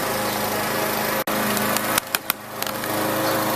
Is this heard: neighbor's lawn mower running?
yes